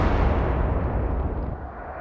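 Naval artillery firing in Atlantic Fleet, a WWII naval combat game: a deep, rumbling boom that holds loud for over a second, then slowly fades away, heard alone.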